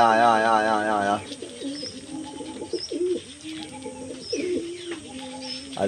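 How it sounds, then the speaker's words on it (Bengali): Pigeons coo repeatedly in a close, low rhythmic series while feeding together on grain, with a brief human voice at the start and soft bird chirps in the background. "একদম গোল হয়ে সব পায়রা খাচ্ছে দেখুন।"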